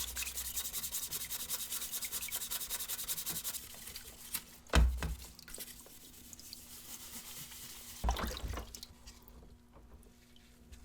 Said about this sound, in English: I love using my magic eraser on these outside components.